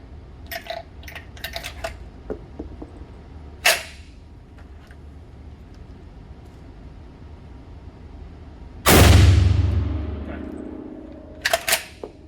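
A SCAR 20 rifle fitted with a SCARburator, gas fully closed, fires a single loud, sharp shot with a lingering decay, preceded and followed by scattered metallic handling clicks and clatter.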